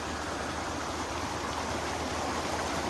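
High water pouring over the sides of a concrete diversion ditch beside a gravel road after hurricane remnants, a dense, steady rushing roar like a close waterfall with no break.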